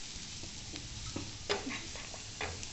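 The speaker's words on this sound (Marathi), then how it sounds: "अद्रक, लसूण, खोबरं बारीक करून घेतलेलं ते टाकू आणि छान परतून घेऊ." Bitter gourd sautéed in a pan with finely chopped ginger, garlic and coconut, giving a quiet sizzle with uneven scraping and tapping of a spoon, close by and free of talk.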